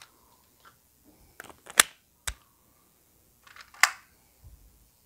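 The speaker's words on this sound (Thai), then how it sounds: "แบบที่1จะขึ้นสไลด์จากท้ายปืนนะครับ" A pistol slide racked from the rear of the gun, heard as a few sharp metallic clicks and clacks, mostly single snaps with small rattles around them, close and crisp against near silence.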